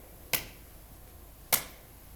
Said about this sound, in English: We're going to step out and clap when our feet come together.